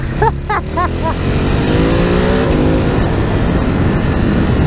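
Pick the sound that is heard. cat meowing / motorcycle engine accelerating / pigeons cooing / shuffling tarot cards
motorcycle engine accelerating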